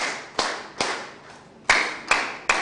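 An audience at a gathering of Kenyan Muslims honouring a professor claps in a patterned rhythm of six sharp, separate claps, grouped in two sets of three, each ringing briefly in a hall.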